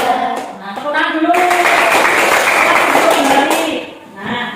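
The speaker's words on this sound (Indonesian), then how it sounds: "tepuk tangan dulu" A primary school class of fifth graders clapping their hands in a lesson, a burst of dense group clapping rising between singing voices and fading back into talk.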